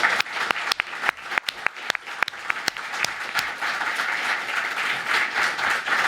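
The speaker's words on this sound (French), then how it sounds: "Je vous demande un tonnerre d'applaudissements pour Sylvie Dufour." An audience welcomes a guest with applause, starting as a few sharp, separate claps that quickly swell into a thick, sustained roar of clapping from the crowd.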